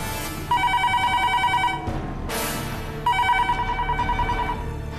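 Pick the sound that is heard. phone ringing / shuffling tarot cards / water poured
phone ringing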